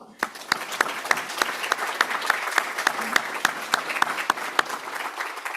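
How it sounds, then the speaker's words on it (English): An audience at a school alumni awards ceremony gives a round of applause for the year's honorees, with steady, dense clapping and sharp individual claps standing out, going on for several seconds without talk. "just let's give a round of applause for this year's honorees"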